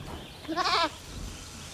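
A single goat bleat sounds in Jurassic World Evolution, a short wavering cry lasting under half a second, clear against a quiet background.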